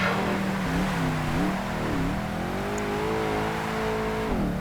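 Race car engine in Project Gotham Racing 2, American Muscle Series, revving continuously with pitch rising and dipping through gear changes, a loud steady drone throughout.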